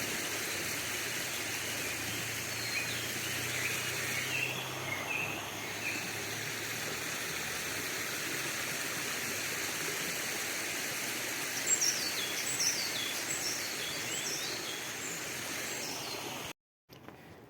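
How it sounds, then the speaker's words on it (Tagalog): A river stream flows along a rural bike route with a constant broad rushing wash, while a few faint birds sing intermittently in the background. No one speaks. "Pakinggan nyo yung tunog ng nature."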